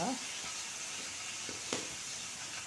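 Curry leaves and asafoetida sizzle steadily in hot oil for a tempering for a peanut-sesame chutney, a close, continuous frying hiss with a faint stir or tap now and then.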